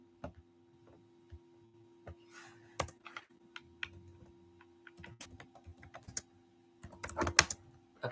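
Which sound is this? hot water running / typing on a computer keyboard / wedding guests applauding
typing on a computer keyboard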